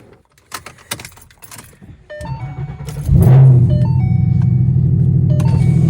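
Keys jangling close up with clicks and taps, then a Ford Mustang engine cranks and starts, settling into a loud steady idle rumble.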